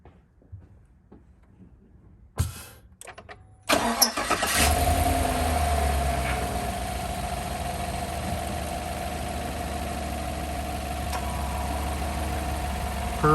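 A Suburban, Yukon or Escalade engine fresh from a synthetic oil change fires up after a few clicks and cranks, then settles into a steady, close, even idle with no voices.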